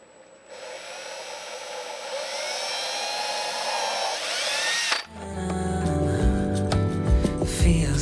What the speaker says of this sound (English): I'm just going to drill right through my pencil line.